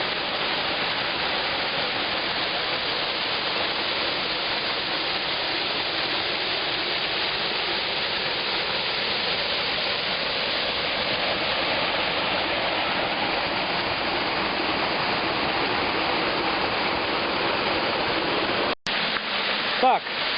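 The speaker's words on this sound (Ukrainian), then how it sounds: "От послухайте, як шумить маленький водоспадик." A small waterfall at Maniava roars steadily and broadly, a constant dense rush close by, with a brief dropout near the end.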